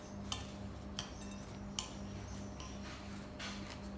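Utensils gently stir Florentine flour into nuts in a bowl, giving soft irregular scraping and a few light clinks over a quiet, low background hum.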